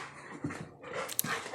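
A six-month-old purebred yellow Labrador puppy and a border collie mix pant close by in quick, breathy bursts, with a faint whimper, during puppy play.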